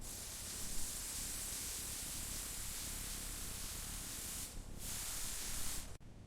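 Continuous close hiss of a spray gun laying a metallic coat on a Mercedes-Benz S500 body, steady for several seconds with a brief dip, then cutting off abruptly at the end.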